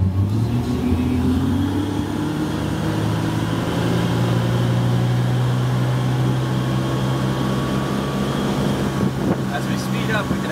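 A Sea Ray motorboat's engine is put in gear and the throttle pushed forward; the engine drone rises in pitch as it accelerates, then holds a loud, steady roar with wind noise over the microphone.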